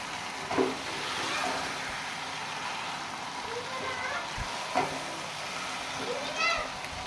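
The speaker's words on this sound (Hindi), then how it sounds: "चिकन को अच्छी तरह से भून लेंगे।" Chicken sizzles steadily in masala in a karahi, a soft continuous fry with a few sharp clinks of a spoon stirring against the pan, all fairly quiet and close.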